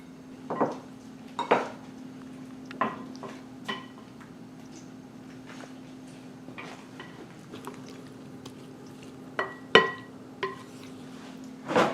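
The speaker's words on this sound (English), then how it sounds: "she's going to go ahead and mix it, and then we're going to get everything nice and glazed and coated" Spoon or utensil clinking against a bowl while fruit is mixed with glaze for a family brunch: a scattered series of sharp, close clinks and taps at uneven intervals over a low steady hum, with no talking.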